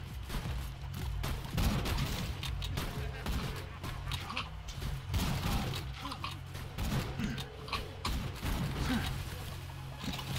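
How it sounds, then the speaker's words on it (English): Sniper rifle gunfire in the video game Borderlands 2, sharp shots cracking out in irregular bursts amid busy combat noise and mechanical clatter, with talk mixed in. "the recoil in this sniper rifle is ridiculous"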